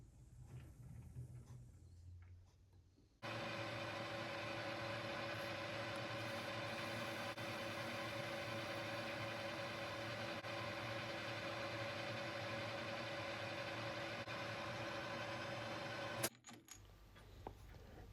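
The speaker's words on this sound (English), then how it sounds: "back in the lathe to face it off to length." A metal lathe faces a motorcycle brake pedal pivot shaft for a Kawasaki S1 550 four-cylinder, giving a steady, loud, even whine and hum for about thirteen seconds that starts and stops abruptly.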